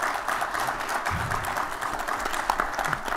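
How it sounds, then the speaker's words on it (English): Audience applause for a conference panel on media attribution, a fairly quiet, even patter of clapping across a few seconds with a faint voice or two mixed in. "A big round of applause for this group."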